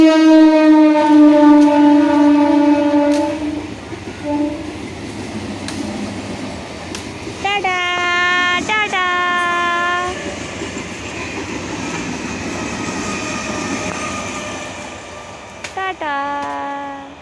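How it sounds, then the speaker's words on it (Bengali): A passing train blares its loud horn in several long, close blasts over a continuous rumble of wheels on the rails, and people talk beneath the noise. "ট্রেনটা চলে গেল"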